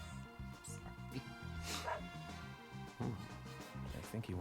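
A dog in the video game Deadly Premonition gives a few short barks and whimpers over a bed of game music, and a voice talks in the background.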